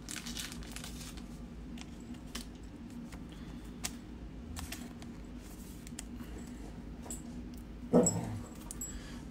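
A dog chews on a toy close by, with soft crinkling and faint whimpers over a steady low background hum, and one louder crunch near the end.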